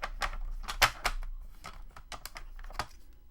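A paper trimmer slicing a journal card for a small folio: a string of crisp, close clicks and scraping snaps in an uneven rhythm, several sharper strikes standing out, with no voices.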